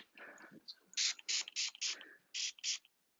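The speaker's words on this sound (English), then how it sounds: "let's put a little bit of a leave-in treatment spray" Leave-in treatment spray misted onto hair during a layered bob haircut, a series of about six short, crisp hissing bursts in quick succession, close up, after a few moments of soft speech.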